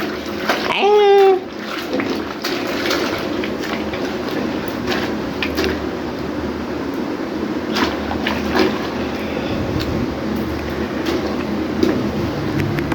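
Clothes soaked in a tub or bucket of water in a hostel, with a loud splash near the start, then steady sloshing and dripping water close by.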